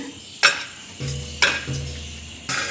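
Whole cardamom, cloves, cinnamon sticks and cumin seeds drop into hot oil for a masala brinjal curry, giving a few sharp sizzling bursts about a second apart, each fading into a steady fry, with no talking.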